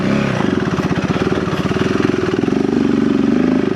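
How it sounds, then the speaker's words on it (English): KTM 390 Enduro R motorcycle engine lugging in second gear while climbing an off-road trail, a close, steady low throbbing pulse that holds for several seconds with no talk. "I'm in second gear, and I'm really lugging the bike"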